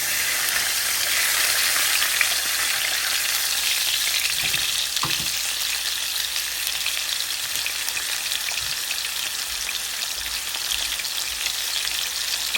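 Fish frying in hot oil for a fish fry, a loud, dense, continuous sizzle and crackle close up, with a few faint scrapes partway through.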